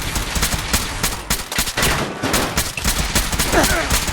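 An enemy fires at the player in Fallout 4, and dense rapid gunshots rattle nonstop at close range, loud and continuous across the whole moment.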